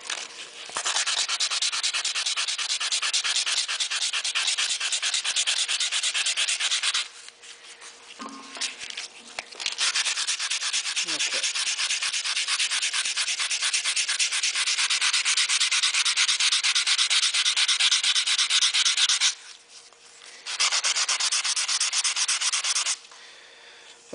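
Stainless steel hand-sanded with 150 grit paper, a steady close scratchy rubbing in long continuous strokes with two short breaks, no talking.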